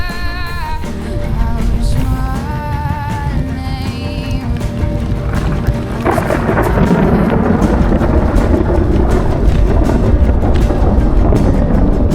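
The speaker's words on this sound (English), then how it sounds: "That thunder is getting insane." Thunder rolls loudly through a storm during a bicycle ride across Poland, a deep continuous rumble with heavy wind buffeting the microphone that grows rougher partway through.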